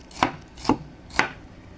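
Three evenly spaced knife chops cut through bilimbi (kamyas) on a cutting board, each a crisp close thud with short gaps between.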